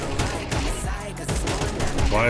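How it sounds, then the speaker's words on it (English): Rapid bursts of AK rifle fire in a first-person shooter on a gaming PC, dense and continuous over about two seconds at close range, with game sound effects mixed in. "let's try out the AK."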